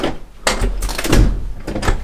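A door is unlocked and opened, giving several clunks and rattles of handling: a knock near the start, a heavier thud in the middle and further clatter toward the end, fairly close and loud.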